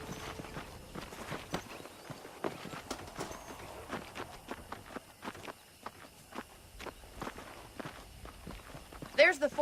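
Horse hooves clip-clop in Red Dead Redemption, a steady run of hoof strikes close by, while voices talk over them.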